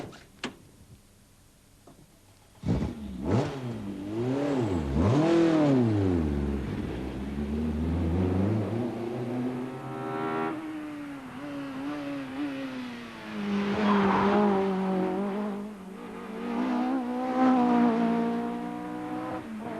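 A 1992 British Touring Car Championship car revs hard nearby at Oulton Park short circuit, engine pitch climbing and dropping through gear changes as it accelerates, loud and sustained.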